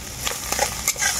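Grated green chilli is stirred with fried onion in a pan for a bhindi dish, giving a few short scraping, sizzling strokes close up, alone.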